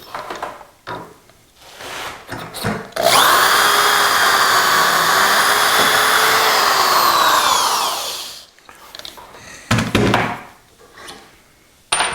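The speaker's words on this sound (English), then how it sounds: "Now the indexing pin is holding it in position, and we drill number 5 again." A power drill bores a dowel hole into wood through a Dowelmax jig for a bedside table drawer, a loud steady whine lasting about five seconds, with clunks and handling noises before and after.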